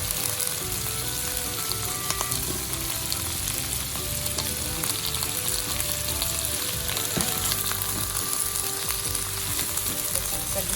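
Meat and cabbage for yakisoba fry loudly in a pan, giving a dense, continuous sizzle with some crackle and faint clatter running throughout without any speech.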